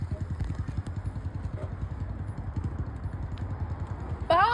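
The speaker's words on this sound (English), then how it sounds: "Do I hear a bike? I do. That is correctly a motorbike." A motorbike engine putters with a steady rapid low thumping rhythm, fairly close and moderately loud, with a brief higher sweep near the end.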